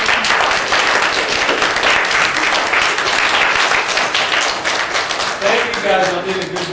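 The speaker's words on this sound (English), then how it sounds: "Everybody give them a big round of applause." A crowd at a Christmas puppet show claps loudly and steadily, the dense applause running the whole time before a voice begins to speak near the end.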